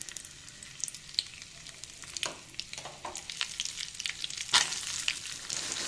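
Curry leaves and turmeric sizzle in hot coconut oil in a pan, a steady close frying hiss with sharp crackles and stirring clatter and no talking.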